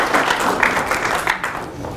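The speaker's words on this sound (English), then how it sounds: "Please give a warm round of applause" An audience at an academic lecture applauds to welcome a speaker, a dense, fairly loud wash of many hands clapping at once, steady throughout with no voices over it.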